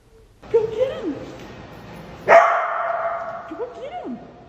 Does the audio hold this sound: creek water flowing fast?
no